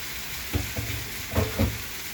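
Flattened rice (atukulu upma) with tomatoes and turmeric being stirred in a frying pan: a soft steady sizzle with several scraping stirs of a spoon against the pan, close and fairly quiet.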